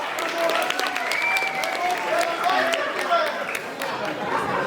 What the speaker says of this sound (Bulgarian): Още веднъж силни аплодисменти за Боби и Влади!